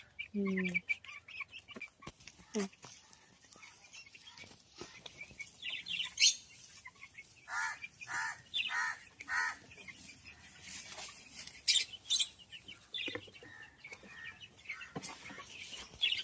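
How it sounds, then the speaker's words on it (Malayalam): Hens cluck and call in repeated bursts at close range, with brief voices mixed in now and then over a steady stretch. "പലതരം കിളികളുണ്ടല്ലേ"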